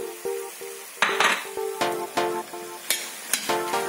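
Hotdog pieces are stirred in a pan for a spaghetti sauce, giving repeated metallic clanks and scrapes of a utensil over a light sizzle. Steady tonal music plays underneath throughout.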